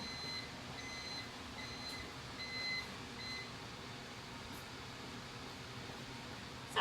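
Intermittent high electronic beeps from kitchen equipment sound in short bursts over a steady background hum, with no voices.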